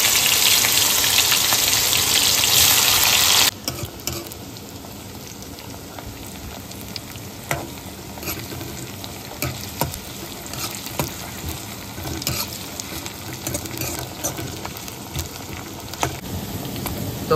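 Onions frying in a pan for chicken curry give a loud, dense sizzle that drops to a steadier, softer crackle after a few seconds, with scattered stirring clicks and no talking.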